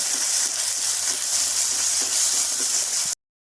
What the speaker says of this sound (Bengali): আর দিয়ে দেবো এর মধ্যে পরিমাণ মতো হলুদ। ভালো করে ভেজে দেব।